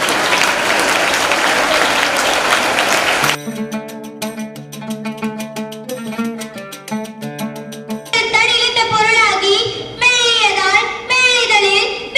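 An audience at a school ceremony honouring girl students with top marks in Tamil bursts into loud, dense clapping for about three seconds, then it cuts to bright instrumental music.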